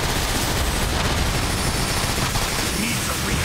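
Dense, continuous gunfire and blasts fill a firefight in the video game Transformers: War for Cybertron, loud and unbroken throughout, with shouted voices mixed in.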